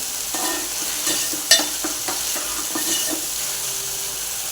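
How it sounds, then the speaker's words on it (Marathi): Oil and ground masala paste sizzle in a pan while sprouted mung beans are being cooked, a steady close frying hiss with light stirring scrapes and one sharp clack, no talking. "आपण बघा त्याला हे तेल फुटायला लागलं वाटणाला"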